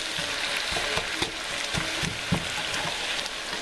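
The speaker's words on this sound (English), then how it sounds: "Let's stir it in, see how much we got" Frozen pre-cut okra frying in a pan for bhindi masala, stirred with steady close sizzling and a few scraping utensil knocks over about three and a half seconds, no talking.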